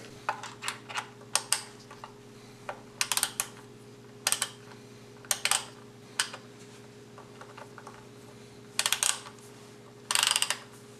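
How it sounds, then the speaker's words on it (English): Small ratchet backing a screw out of a Keurig 2.0 brewer, short clusters of close, crisp clicks separated by pauses over a faint steady hum, with no talking. "Unfortunately, there's not much clearance for that, so I use a small ratchet to relieve that."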